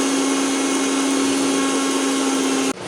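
An electric mixer grinder whirs loudly and steadily as it grinds spice masala, a constant close motor hum with a high whine that cuts off abruptly near the end.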